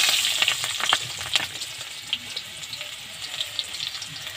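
Whole garlic cloves fry in hot oil in a wok, a constant soft crackling sizzle with sharp spits and pops scattered over it, close and moderately quiet.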